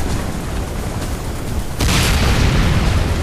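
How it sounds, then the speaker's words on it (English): A SAM site blowing up in Command & Conquer: Renegade: a rumbling roar of blast noise that jumps to a louder, brighter boom partway through and stays loud to the end. "SAM site destroyed"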